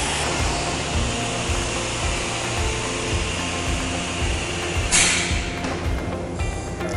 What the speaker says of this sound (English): go ahead and air the keel up.